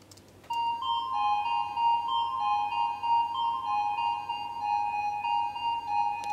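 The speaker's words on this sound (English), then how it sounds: "So I just picked house organ under ESM and added a huge reverb as well" A sustained house organ chord rings out with huge, washy church-like reverb, steady and loud after a brief quiet start.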